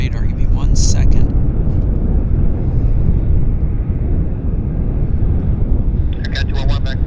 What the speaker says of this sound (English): Q400 on approach.